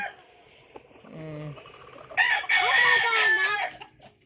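A rooster crows loudly and close in a long rising, wavering call, preceded by softer clucking and a brief voice in the background.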